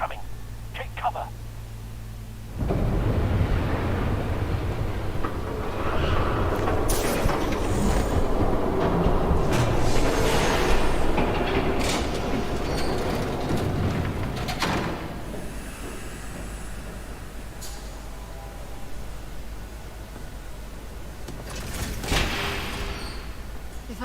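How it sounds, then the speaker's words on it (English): A train approaches and rumbles past in the Batman: The Telltale Series video game, a loud sustained roar that swells and fades over about twenty seconds, with brief hisses and clanks mixed in. "There's a train coming."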